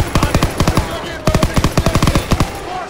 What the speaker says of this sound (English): MG's on the stairs.